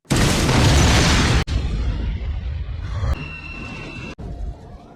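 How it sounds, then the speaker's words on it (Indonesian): A bus explodes in a loud, sudden blast, then a long rumbling roar fades with debris and a faint ringing tone afterward. "bus yang tadinya ditumpangi Maggie pun meledak"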